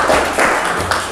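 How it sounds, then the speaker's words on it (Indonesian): Audience at an event clapping together in a dense, continuous burst of applause, close and loud, lasting about a second. "Coba tepuk tangan dulu buat"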